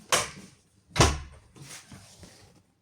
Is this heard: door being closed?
yes